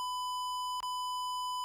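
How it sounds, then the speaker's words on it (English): A synthesized even square wave sounds as a steady, pure-pitched electronic tone with bright stacked overtones, held evenly with a brief click midway, clean and alone. "This is the sound of this even square wave."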